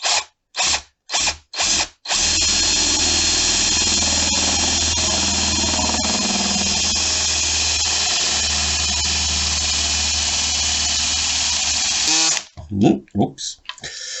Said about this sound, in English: Oh, I've got it on the torque setting. It should be on the drill setting.